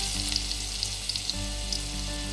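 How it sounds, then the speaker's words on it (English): Butter melting in a pan of hot rice bran oil gives a steady close sizzle, a continuous hiss dotted with small crackling pops, and no voices. "Now to this I'll add a little bit of butter."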